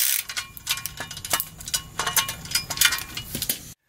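A ratchet tightens the seat rail mounting bolts for Bride seats in a Lexus IS300, a close, rapid clicking in short repeated bursts that stops abruptly at the end.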